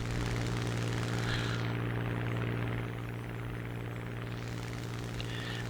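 Hawk plane engine in War Thunder, a continuous droning propeller hum with a steady low tone and a slight dip midway, no voices.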